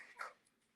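Dogs outdoors give a short, faint whimper or yelp, a single brief cry rising then fading, heard from a distance with no talking over it.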